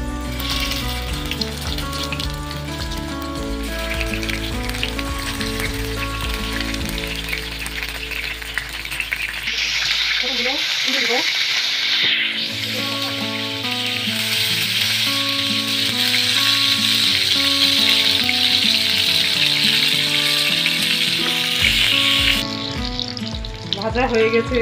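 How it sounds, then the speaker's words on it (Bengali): Stuffed pointed gourds (potol) fry in hot oil, sizzling and crackling steadily near the mic, with occasional stirring and rattling over quiet background music. "তেল গরম হয়ে গেছে, পটলগুলো দিয়ে দিচ্ছি"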